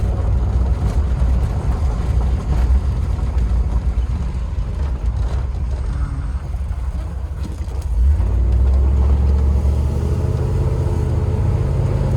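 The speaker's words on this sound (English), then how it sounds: "I always like to come back here to kind of test out four-wheel drive, low and high functions." A 1988 Range Rover Classic short-wheelbase being driven while its four-wheel drive is tested in low and high range, giving a loud, steady engine and road rumble throughout that deepens briefly near the end, with no talk.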